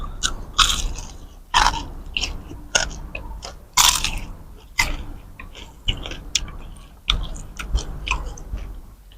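Crispy deep-fried pork belly coated in batter and seasoned with fish sauce, chewed close to the mic: repeated loud crunchy bites in bursts roughly every second, with quieter chewing between and no talking.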